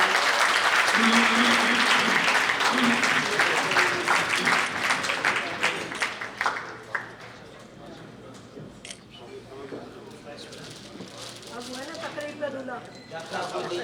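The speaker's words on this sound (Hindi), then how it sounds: "बहुत जोर से तालियां बजाइए।" Loud crowd applause that gradually thins into scattered clapping, with people talking over it toward the end.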